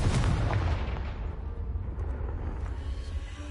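Confringo blasting spell cast in Hogwarts Legacy on PS5, going off as a loud, close explosive blast with a heavy, rumbling boom that stays strong and sustained for a few seconds, with no voices over it.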